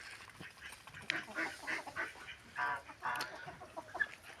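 A small Japanese bantam hen among other chickens clucks in a faint, scattered series of short calls over soft background noise.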